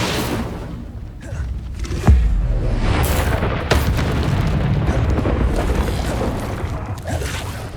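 Fiery spell blasts from the Incendio charm in Hogwarts Legacy, a sharp booming burst near two seconds and another near four, over a continuous rumbling roar of flame and game action.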